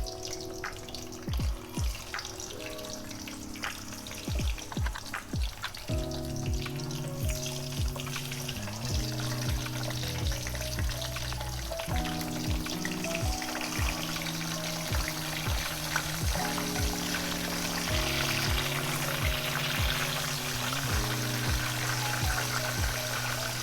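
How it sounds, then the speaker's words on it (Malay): Steady sizzling and crackling of spiced chicken frying in hot oil, with low humming and occasional clatter underneath, continuing throughout. "Bila minyak ni nampak sudah agak panas, kita masuk ayam, kita akan goreng"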